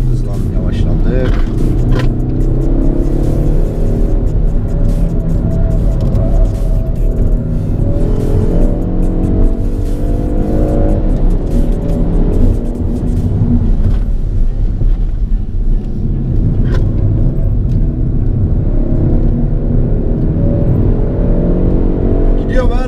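A Peugeot 308 GTI or 208 GTI accelerates hard on a track, its engine rising and falling through repeated revs from inside the cabin while someone talks over it.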